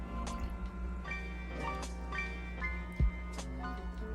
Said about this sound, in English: so I'm gonna scoop some of the water out.